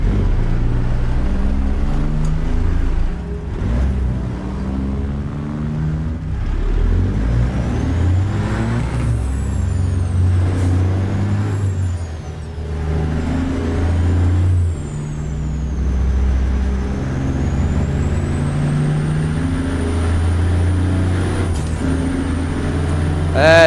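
Heavy diesel rumble of a Detroit 14-litre truck engine in American Truck Simulator, loud and steady throughout with shifting pitch as it pulls, plus a rising whine and air-brake hisses; no talking.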